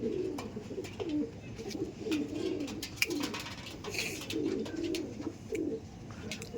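Andhra pigeons in a loft coo in repeated low, rolling phrases, close and fairly quiet, over a soft background murmur.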